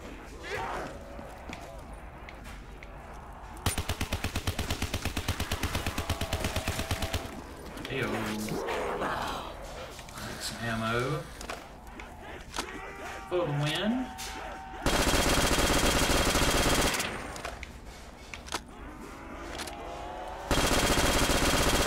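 Rapid automatic gunfire from Black Ops 3 custom zombies in a Christmas Krampus map, loud sustained bursts with pauses between them, along with game effects and a voice talking at times.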